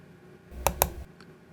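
Two quick, crisp mouse clicks close together on a computer, followed by a faint third tap in a quiet room.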